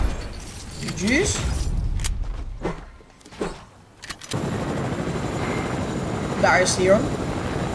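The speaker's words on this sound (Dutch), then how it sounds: "Mijn chopper." A helicopter flies in Fortnite Battle Royale, its rough rotor drone rising and falling with bursts of gunfire and other game noise, while someone talks over it.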